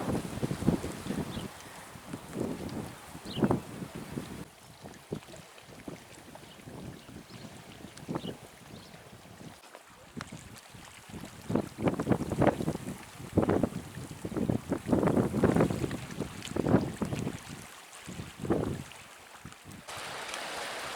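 Steady wind gusting across open sea off Knidos, Datça, with waves splashing and rushing around a boat, blustery noise buffeting throughout.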